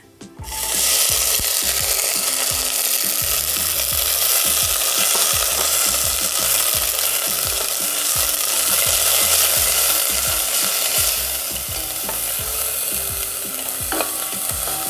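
Sweet corn and vegetables being sautéed over a low gas flame in a pan for a clear soup, with a steady loud sizzle and repeated scraping strokes of a spatula throughout.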